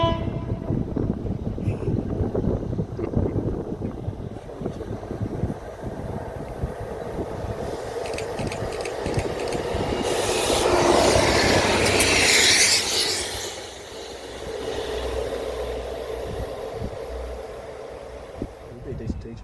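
A train passes Monkton Foot Crossing, with a broad swelling roar that builds to a loud peak near the middle and then fades, with voices and background noise throughout.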